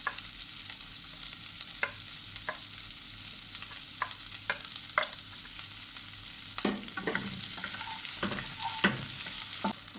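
Tom yum paste and chili fry in a wok over high heat, a constant dense sizzle punctuated by repeated metallic stirring scrapes and taps, close and fairly loud.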